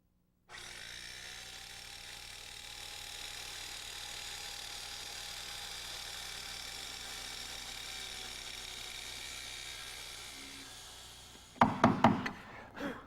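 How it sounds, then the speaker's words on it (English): A flooring undercut saw cutting off finished floor beneath a door plinth block, a steady whining motor hum for several seconds, then a few sharp knocks and clatters at the end. "a saw that's designed to cut off the finished floor"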